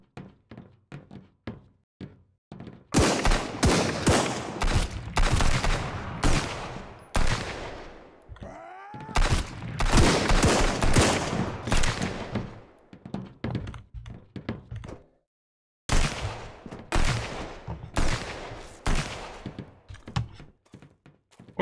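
Rapid gunfire in the Sunkenland video game comes in dense, loud volleys of sharp shots, broken by short pauses and a few sparse single bangs.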